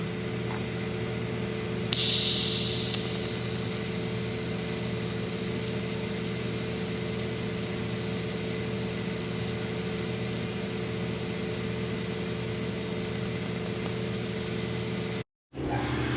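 An LS-swapped Mercedes V8 runs at a steady idle for most of the stretch, a constant low engine drone with a brief brighter burst early on, alone with no talk before it cuts out near the end.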